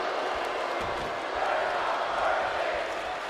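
A wrestling arena crowd in WWE 2K25 chanting loudly in a steady, roaring wash of voices that fills the whole clip.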